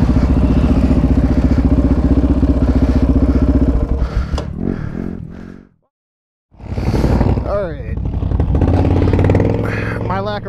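A Yamaha Raptor 700 ATV fitted with anti-vibration parts roars loudly and close up on a park test ride, revving and clattering, cutting out briefly to near silence before the engine picks up again.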